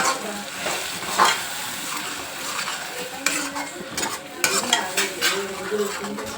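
Cashew and tomato puree fries in hot oil in a pan for paneer masala curry, giving a steady close sizzle with spoon stirring and occasional metallic clinks, no talking.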